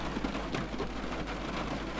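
Continuous rain in Train Sim 2021 forms a soft, even hiss with faint distant rumbling beneath, unbroken and without voices.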